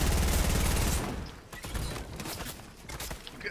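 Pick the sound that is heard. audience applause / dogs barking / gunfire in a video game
gunfire in a video game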